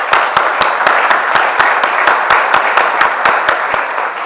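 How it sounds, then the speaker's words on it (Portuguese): Audience applause at an exhibition opening event at IMS Paulista, with clear, rhythmic clapping sustained at a steady, loud level throughout. "palmas para o Samuel"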